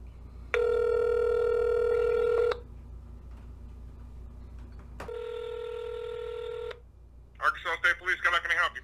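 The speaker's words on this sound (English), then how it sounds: "Wait while I transfer your call." A phone call to the Arkansas State Police is transferred: two long, steady electronic ringing tones sound with a gap between them, then a voice answers and speaks.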